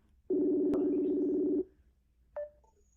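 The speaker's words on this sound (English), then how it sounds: "Nick Bideau ringing." A single steady electronic ring tone sounds for over a second, followed by a short beep, in an otherwise quiet setting.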